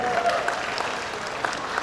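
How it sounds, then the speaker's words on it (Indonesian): A crowd at a church youth camp closing ceremony claps warmly and continuously, a steady wash of applause with some faint voices underneath. "Tepuk tangan untuk PPGTN."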